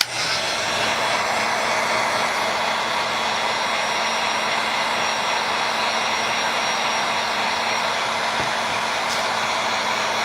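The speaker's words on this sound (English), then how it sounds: "Now you first heat the plastic up." A hot air blower runs steadily and loudly, heating plastic parts of a Battle Cat toy for an ankle articulation fix, its even airflow roar continuous throughout with no talk.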